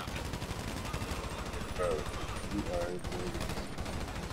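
GTA Online heist gunfire, a steady rattle of rapid automatic shots running throughout under a voice.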